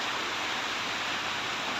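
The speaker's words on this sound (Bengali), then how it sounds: "কত সুন্দর বৃষ্টি হচ্ছে সে বৃষ্টি লাগা সকাল" Light morning rain makes a steady, soft hiss of falling drops, an even wash of noise with no talk over it.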